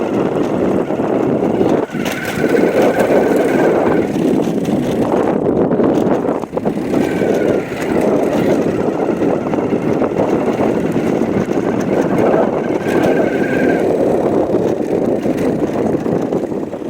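A motor boat engine on a river between Lakhimpur and Majuli, Assam, drones steadily and loudly throughout, mixed with heavy wind buffeting.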